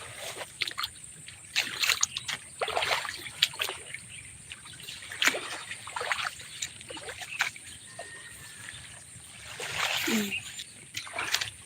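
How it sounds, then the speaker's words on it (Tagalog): Water splashes and trickles nearby in irregular bursts and gurgles, fairly quiet, with brief pauses between the louder splashes. "Ang tubig."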